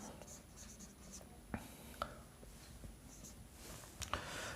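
Writing on a board during a Laplace transforms maths lecture, soft scratchy strokes with a few sharper taps, faint and close over a quiet room hiss, with no clear talk.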